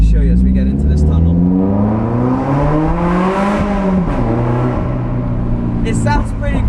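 Lotus sports car fitted with a Lorini sports exhaust and Sports Cat, driven through a tunnel: loud, close engine revving with rising and falling pitch and echoing exhaust tone throughout, a voice briefly speaking over it.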